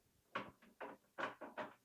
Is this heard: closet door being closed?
yes